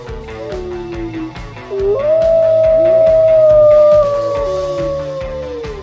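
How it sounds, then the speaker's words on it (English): A wolf howls in one long, rising and sustained tone that swells loudly, then slowly falls away, layered over a busy, rhythmic background with no voices. "A wolf is a wild, social animal known for its howl and pack behavior."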